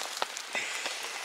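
Rain pattering steadily on a tarp shelter at a bushcraft bivouac in the woods, a dense patter of drops with a few louder taps, close and fairly quiet with no talking.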